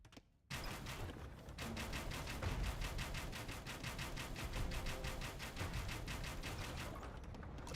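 Arbalester crossbowmen in Age of Empires II loose volley after volley in a dense, rapid rattle of shots that runs nonstop for several seconds, loud, with a busy battle din behind it.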